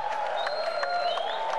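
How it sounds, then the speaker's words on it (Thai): Chinese spectators applauding at a Thai boxing match, a steady wash of crowd clapping and cheering throughout, moderately loud with whistle-like tones over the clapping. "เสียงปรบมือเนี่ยเป็นเสียงปรบมือของชาวจีนนะครับ"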